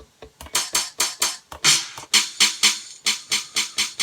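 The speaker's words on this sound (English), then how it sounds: "Well, basically what they are is they're short snares without the low frequency." High-pass filtered short snare drum hits from the Granular Blend Box, a quick run of about twenty crisp, thin, bright snaps with no low end, played in a steady rhythm.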